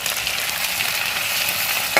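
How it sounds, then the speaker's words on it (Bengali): Chicken sautés in a hot pan, giving a dense, loud, close sizzle that holds steady for two seconds, with a faint stir at the end. "আর এখানে দেখো চিকেনটা কষতে দিয়ে দিয়েছি।"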